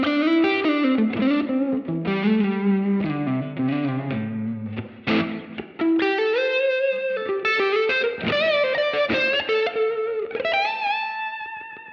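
An electric guitar runs through a Line 6 Helix amp model preset and plays a lively overdriven phrase with chordal stabs and single-note runs. The tone is distorted and saturated with a touch of chorus and reverb, loud and up front with no talking.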